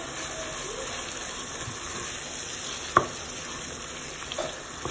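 Onion frying in a pan with freshly added red and green capsicum for a chicken keema samosa filling, a steady even sizzle throughout with one sharp clink of a utensil near the middle.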